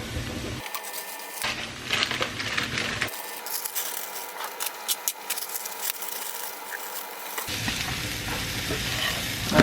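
Frozen cauliflower sizzling and frying in a hot pan, with crackling bursts that stop and start as the pan is stirred, punctuated by scraping and clinks; no talking.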